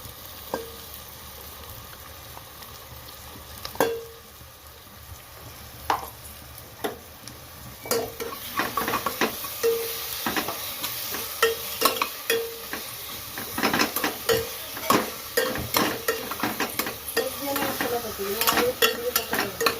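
Ginger-garlic paste frying and sizzling in a pan for a desi chicken curry, with a utensil stirring and scraping at an irregular pace, the clatter growing busier and louder in the second half; no one speaks.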